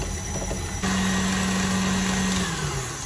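An electric mixer whips cream. It starts as a steady whir, then jumps into a louder, higher hum with a sustained tone partway through, and runs continuously and close with no voices.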